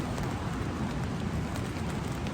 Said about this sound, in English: It's starting to rain, y'all.